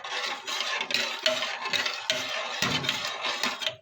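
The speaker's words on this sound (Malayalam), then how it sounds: "നന്നായി ഒന്ന് ഇളക്കി നോക്കുക." Vermicelli being stirred in a pot for a one-pot veggie dish, with steady scraping and clinking of a spoon against the pot throughout, close and continuous, with no talking.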